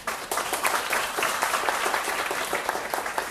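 An audience at a psychology workshop at Hoa Sen University claps in a lively burst. Many hands strike in quick, uneven succession at a moderate, close level, and no one speaks over it.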